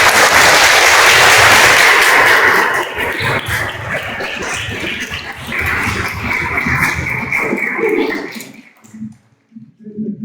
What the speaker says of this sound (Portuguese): Então eu peço a todos vocês agora uma salva de palmas para Jesus.